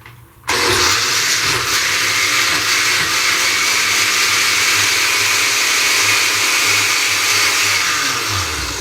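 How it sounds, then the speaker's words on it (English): A loud kitchen blender starts suddenly on its mince setting with cold water and fresh indigo leaves inside, then holds a steady high-pitched motor whine and churning roar close by with no talking. "it's a loud blender."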